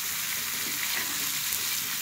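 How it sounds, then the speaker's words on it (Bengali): Vegetables for a spinach and kalai dal curry fry steadily in a pan, a continuous close sizzle with a light crackle throughout and no voices. "এখন এই যে ভেজে নিচ্ছে সুন্দর করে সবজিগুলো"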